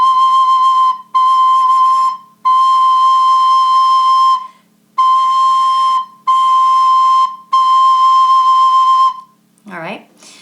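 Soprano recorder in a fifth-grade lesson sounding a steady C, a series of six sustained, evenly pitched whistly tones separated by short breaths, loud and close, followed by a brief vocal sound at the end.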